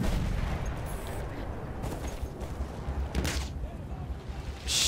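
Mortar and artillery fire in the Battlefield 1 video game, a steady rumbling barrage with scattered booming blasts and crackling gunfire at mid distance, a loud burst near the end, a voice faintly under it.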